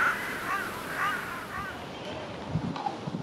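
Hooded crows caw repeatedly in a winter setting, several harsh calls at moderate distance over steady background noise, with a voice speaking beneath them.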